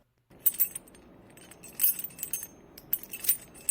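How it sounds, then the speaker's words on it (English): A bunch of keys worn on a man's belt jangling in rhythmic bursts as he walks, bright metallic clinks coming in three or four clusters, close and fairly loud with no talk. "This sound came from a bunch of keys on him."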